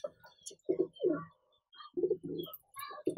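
Slaty Kaldume pigeons cooing in a series of soft, throaty bursts with brief pauses between them, close by and alone.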